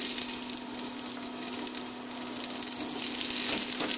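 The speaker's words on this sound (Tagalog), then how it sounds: "igigisa na natin yung dinikdik na bawang at yung luya" Crushed garlic and ginger sauté in hot cooking oil with a continuous close crackling sizzle that grows slightly louder toward the end. No one speaks.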